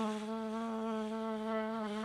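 A human voice imitates a buzzing mosquito, holding a steady, nasal, high whine for about two seconds before cutting off abruptly.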